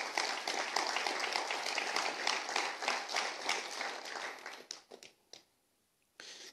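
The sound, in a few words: congregation applause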